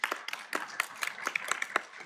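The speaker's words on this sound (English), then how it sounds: "Give yourselves a round of applause, dietitians." An audience of dietitians at a panel event claps in brief, scattered, fairly faint applause lasting a couple of seconds.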